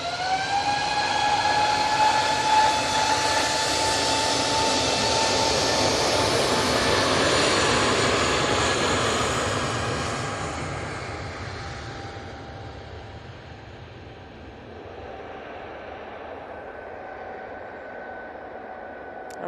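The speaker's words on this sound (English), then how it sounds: "That EasyJet A320 Neo is off to Oslo." An EasyJet Airbus A320neo departing Manchester Airport, its jet roar and high whine loud at first, then fading steadily as it climbs away, with no voices.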